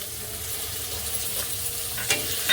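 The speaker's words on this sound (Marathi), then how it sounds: "कांदा पण चांगला आपण तेलावर परतून घ्यायचा आहे" Chopped onion and garlic fry in hot oil while stirred, a close, steady sizzle with soft scraping strokes and a couple of sharper clicks near the end, without voices.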